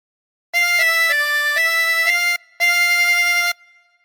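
A chromatic harmonica plays a phrase of the Star Spangled Banner as a run of clear, sustained notes that change pitch, with a short breath gap before a final held note, loud and close with no talking.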